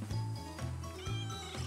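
A fully grown grey cat gives faint, repeated low meows in a loose rhythm, each short and quiet, with no talk over them.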